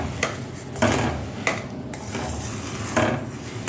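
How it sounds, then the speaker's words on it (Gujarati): Black sesame seeds being stirred into hot jaggery or sugar syrup in a pan while making chikki: repeated scraping and clinking of a spoon against the pan in a steady, close rhythm, with no talk. "હવે તલ એડ કરી દીધા છે અને સરસ મિક્સ કરી દેવાના છે"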